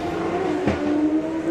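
Drag racing machine at a drag strip festival launching with too much boost, a loud engine roar building into a brief sharp burst mid-clip over steady high-revving drone, with no talk.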